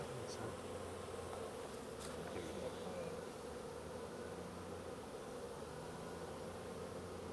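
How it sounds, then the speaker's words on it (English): Honey bees buzz around a beekeeper's hand in a steady, continuous drone, faint and close, with no clear voices over it. "you'll see like his whole hand will be covered in bees"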